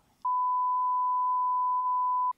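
A single steady electronic phone tone holds unbroken for about two seconds, loud and clean against silence, with no talk around it.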